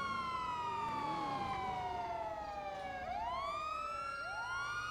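Wailing emergency vehicle sirens in a video game, loud and continuous with sweeping pitch rises and falls layered over each other, no talking.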